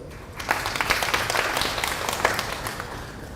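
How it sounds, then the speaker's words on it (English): Audience applause at a developer summit in Singapore swells into a steady round of clapping from a medium-sized crowd, heard from a short distance for a few seconds without speech. "please, another warm round of applause"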